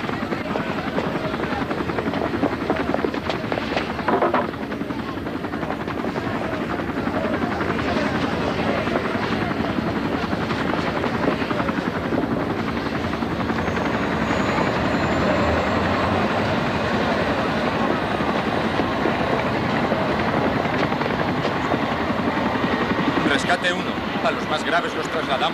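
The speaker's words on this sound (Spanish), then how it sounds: "Trasladamos en helicóptero." A rescue helicopter flies through the whole stretch, its steady, loud rotor and engine drone unbroken, while people talk over it.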